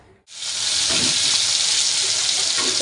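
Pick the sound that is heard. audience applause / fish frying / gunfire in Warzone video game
fish frying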